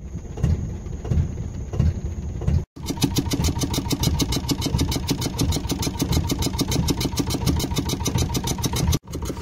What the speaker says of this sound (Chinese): 全部的机器也都启动了